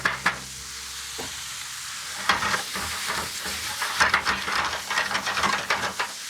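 Shrimp sizzle in a hot pan with a bright crackling hiss, broken by stirring scrapes and bursts of spattering, close and fairly quiet.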